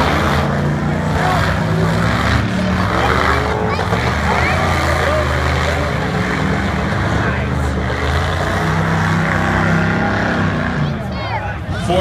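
Engines of Ultra4 off-road race cars roar and rumble continuously, revving and grinding through a rock bed at a championship race, loud and close, while a voice talks over the noise.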